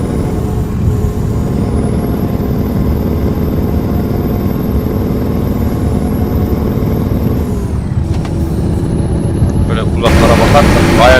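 A heavy truck engine in Euro Truck Simulator 2 drones loudly and steadily, rising as it revs, with a high whine above; a voice talks over it.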